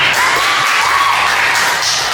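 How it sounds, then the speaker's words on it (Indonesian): A lively audience at an emcee-school event cheers and claps in a dense, steady roar with whoops and shouts, loud and continuous throughout. "Boleh dong tepuk tangan yang paling meriah bagi kita."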